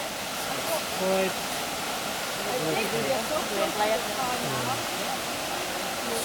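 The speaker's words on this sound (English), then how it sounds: "That's the waterfall, and we're heading down to just hang out there in the rocks." Waterfall at Finch Hatton Gorge, a steady broadband rush of falling water that holds evenly throughout, with faint voices and birdlike chirps scattered over the roar.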